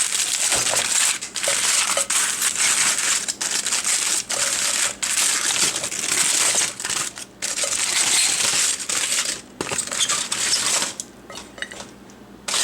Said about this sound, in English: Once your steak is rested for about 5 minutes, take it out of the foil here.